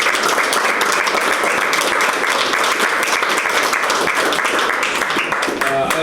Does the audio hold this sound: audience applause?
yes